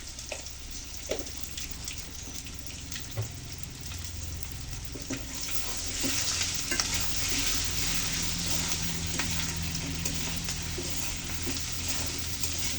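Potato and eggplant frying with cumin paste, ginger paste and chili powder, a soft continuous sizzle with scattered spatula taps, growing a little louder partway through.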